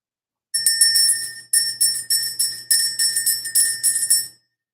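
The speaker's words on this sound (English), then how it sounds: "Let's ring the bell." A bell rung repeatedly in a steady series of about ten bright, ringing strikes with sustained high tones, loud and close, with no voices over it.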